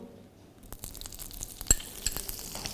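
Oil and butter sizzling softly in a pan for a Delhi-style butter chicken gravy, a faint steady crackle broken by light stirring and scraping taps, with no talking.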